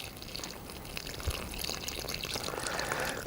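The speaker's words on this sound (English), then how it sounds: "So we're going to add a little bit of water," Water is poured into a bag of plaster mix, giving a soft, close, continuous trickling splash that builds slightly toward the end, with no talking.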